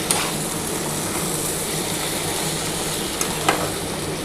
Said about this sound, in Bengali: তাহলে একটু নাড়াচাড়া করে নিলাম